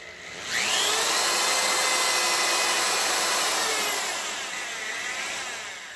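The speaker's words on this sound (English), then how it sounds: "I may have to drill that pocket a little bit deeper" Drill boring a pocket into a GM 2.4 Twin Cam engine block during a balance shaft delete, a loud close continuous whine starting after a short pause and holding steady, easing slightly toward the end.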